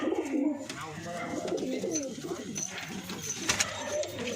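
Breeding pigeons coo steadily in a loft, soft throaty burbling calls that continue throughout, mixed with faint chirps and a person talking nearby.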